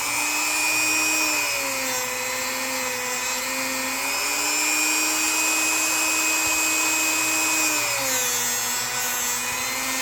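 A Dremel rotary tool whines steadily at close range while working on a small antique metal pommel, its pitch dipping slightly as it bears down on the metal and then recovering.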